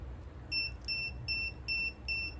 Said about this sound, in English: it's gonna give you that beeping sound because it's saying that, hey, you don't have any pressure on your tires